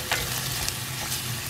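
Curry leaves fry in hot oil in a pan for vada curry, giving a steady, soft sizzle with faint stirring sounds.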